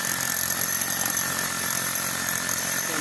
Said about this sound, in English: you about a hammer drill is keep drilling, because each time you stop, it's just less time for that hammer to drill